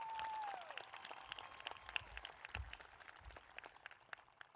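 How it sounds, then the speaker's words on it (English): Faint, distant applause from a graduation crowd honoring a retiring staff member, scattered clapping rolling on for a few seconds. "A round of applause for Mr. Swope and all that he has done"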